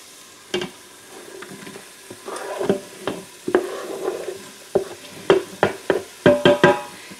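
Onions being stirred in an Instant Pot for fried rice, with a soft low sizzle under a string of irregular spatula clacks and scrapes against the inner pot, growing busier toward the end.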